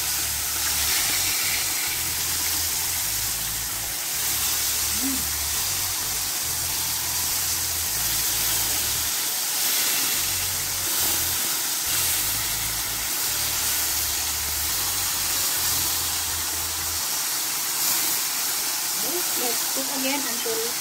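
Crispy pork belly frying in a pan, a steady sizzling hiss that continues throughout at moderate loudness with a low hum underneath.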